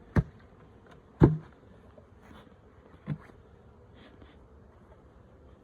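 Honey bees crowded at the top of a ten-frame hive being packed down for cooler weather give a faint, low steady hum, broken by a few sharp knocks near the start and middle.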